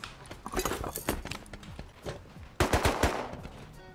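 Loud automatic gunfire in the survival game Rust during an online base raid, fired in rapid bursts with short gaps between them and a heavier volley near the end.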